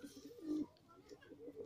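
A red Madrasi pigeon of the lali faisa type gives a soft, low cooing, a short rounded coo repeating faintly at close range.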